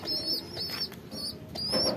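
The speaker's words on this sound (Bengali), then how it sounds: "এই যে কবুতরের বাচ্চাটা" A young pigeon chick, one suffering from an eye problem, gives soft repeated coos and calls with bursts of wing flapping, close by over a steady background hiss.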